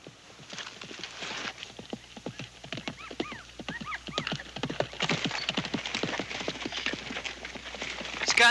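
A horse ridden hard in a 1972 western film scene: a rapid, steady stream of close hoofbeats drums throughout and grows louder toward the end, with a brief whinny-like call in the middle.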